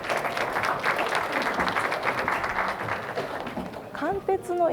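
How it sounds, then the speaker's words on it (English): A camp audience applauds as high school student presenters are welcomed, with clapping throughout under a speaking voice and a brief melodic tone rising near the end. "please welcome them with a big applause"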